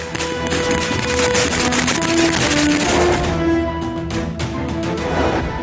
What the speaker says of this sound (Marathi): फटाक्यांची आतिषबाजी करत जल्लोष साजरा करण्यात आला